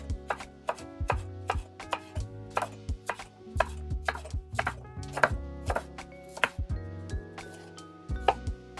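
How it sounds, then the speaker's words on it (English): A knife chops a washed, trimmed vegetable root on a cutting board in a kitchen. The strikes are close and crisp, coming as an irregular series of about two dozen sharp knocks with no talking. "And then chop it up."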